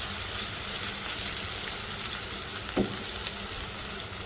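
Finely chopped small onion hitting hot oil with whole spices in a pan, giving a steady continuous sizzle with one brief sharper crackle midway, close and fairly loud throughout, with no talking.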